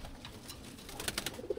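Pigeons cooing softly at feeding time, faint low murmuring calls with a few brighter pulses near the end, heard alone without talk.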